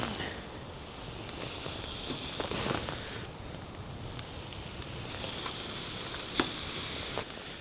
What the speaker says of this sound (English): I seasoned up one side of these steaks already. We'll toss them on. They're pretty thin. They'll cook up fast.